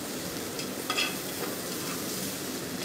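Ginger and garlic paste fries with spices such as bay leaf, cardamom and cinnamon in a pan over low heat for chicken do pyaza. A steady soft sizzle runs throughout, with light stirring scrapes and no talking.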